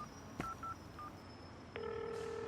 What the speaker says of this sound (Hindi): ऐसे टाइम पर ही हमेशा फोन आता है